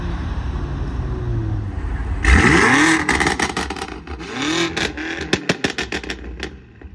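An Audi RS3 pulls up close by with a loud engine rev, then a series of swelling revs and burbling, crackling exhaust pops that fade as the car settles.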